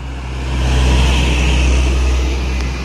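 A Mercedes OH 1526 bus with an electric-style setup, a Sumatran intercity coach on the Padang route, drives past with a steady low engine drone that swells and fades over a few seconds, with no talk.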